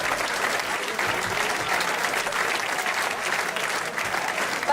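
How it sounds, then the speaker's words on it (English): An audience at a football club fan night bursts into steady, dense applause that holds evenly throughout, filling the room without a break. "a big round of applause."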